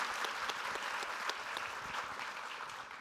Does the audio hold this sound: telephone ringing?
no